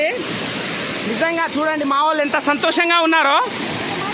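A waterfall in dense forest roars as a steady broad rush under loud, excited speech from a man, the water's noise continuous from start to finish.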